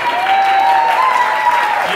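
A live audience at a political announcement event claps loudly and steadily, a dense wash of applause filling the room without a break.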